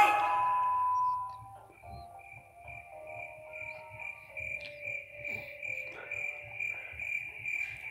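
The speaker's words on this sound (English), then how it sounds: "It's just crickets." Steady high cricket chirping in a video game carries on throughout, soft and continuous, with a few faint tones and low thumps underneath.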